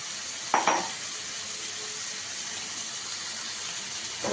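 Taro stolons drop into a hot pan of fried prawns and onions with a brief clatter, then a steady sizzle hisses on, close and even.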